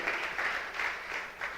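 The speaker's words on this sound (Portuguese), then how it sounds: "Você pode aplaudir ao Senhor?" A church congregation applauds during a sermon, a fairly faint, distant patter of clapping that swells in several waves over a second and a half.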